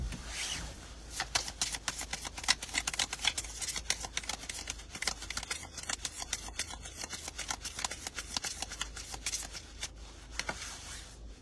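A deck of tarot cards being shuffled at length during a reading, with a long run of quick, crisp riffling and slapping card sounds that rise and fall in bursts, close and fairly loud, with no speech.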